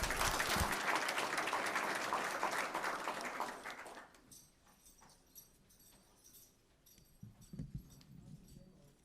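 An audience at a school board meeting applauds a student team, loud clapping for about four seconds that stops abruptly, leaving a quiet room with faint scattered sounds.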